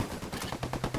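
Automatic gunfire in the shooter game Ghost Recon: Wildlands, a short, faint burst of rapid, evenly spaced shots lasting about a second.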